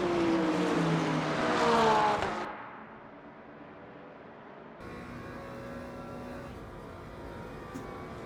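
Race cars roar along in the sim racing game Le Mans Ultimate, a close engine revving loudly and rising in pitch before dropping to a steadier, quieter drone of other cars on the track.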